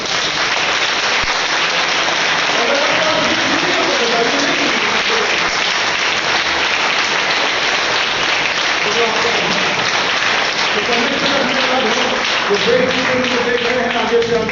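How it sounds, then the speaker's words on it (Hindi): A church congregation claps together in a long, steady wash of applause, with voices speaking and calling out over it throughout. "आशीष मिली है तो हाथ उठा के तालियां बजाने।"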